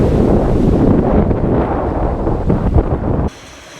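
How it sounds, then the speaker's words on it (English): Strong wind buffets the microphone aboard a sailing catamaran at sea, a loud, continuous broadband roar with gusty surges that cuts off abruptly near the end, leaving quieter background. "Even though the wind did not pass 30 knots"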